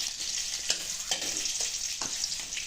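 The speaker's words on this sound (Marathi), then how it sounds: "हे लसूण टाकलेलं आहे आणि लसूण चांगला लाल होईपर्यंत परतून घ्यायचा।" Garlic fries in hot oil in a pan for an onion dish, a close steady sizzle broken by several sharp crackles and stirring clatters at irregular moments.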